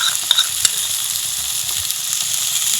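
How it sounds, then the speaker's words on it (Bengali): Spice paste of whipped yogurt and Kashmiri red chili powder fries in a pan, giving a steady close sizzle with a few soft stirring clinks and scrapes. "দিয়ে মশলাটা ভালো করে কষিয়ে নেব"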